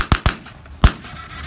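A machine gun with a slow firing rate goes off at a historical reenactment in Stanhope, UK, three sharp, loud, close cracks, two in quick succession, then a short pause before the third, each with a brief echo.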